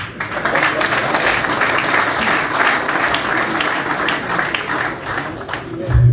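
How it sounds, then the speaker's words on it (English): Dense, steady applause from an audience at a Nigerian political address fills the whole stretch, loud and continuous, with a low thump near the end. "I deserve the clap."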